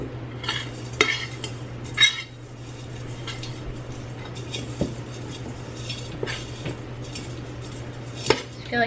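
A spoon stirring and scraping through a potting mix in a container, a series of light scrapes and soft clinks at an uneven pace, close and fairly quiet over a steady low hum.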